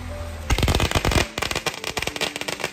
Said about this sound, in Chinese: 刚一来还放鞭炮呢